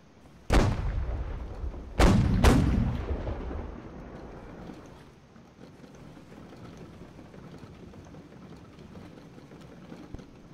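Naval guns fire at ships in a video game naval battle: three heavy booming shots, one alone then two close together, each followed by a long rumbling decay into low ambient noise.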